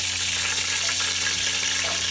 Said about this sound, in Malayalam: അപ്പോൾ വെള്ളം ഒഴിക്കാനിട്ടാ